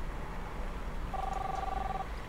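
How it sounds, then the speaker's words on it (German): A telephone gives a single steady electronic ring tone, about a second long and moderately faint, over constant background hiss. "Was hat geklingelt? Das Telefon."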